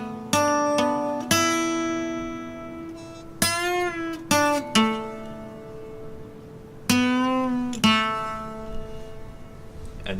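An electric guitar slowly picks the intro to a song, with plucked notes and bent strings sliding in pitch, ringing clearly between the attacks with no talking.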